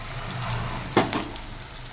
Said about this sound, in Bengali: সবার আগে আমি বেরেস্তাটাকে ভেজে নিচ্ছি।